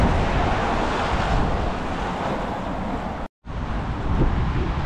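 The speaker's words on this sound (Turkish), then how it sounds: "Çok rüzgar var." Strong wind buffets the microphone on a rainy evening street in Belfast, a loud continuous roar that drops out briefly near the end before resuming.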